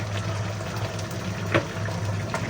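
Tamarind broth pours steadily into a pot with a continuous watery splashing, one brief louder splash partway through.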